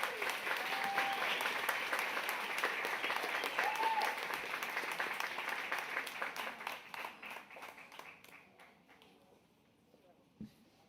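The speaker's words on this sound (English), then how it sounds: "Let's give Sammy a round of applause." A crowd at an awards ceremony applauds steadily, loud dense clapping that gradually thins and fades out toward the end.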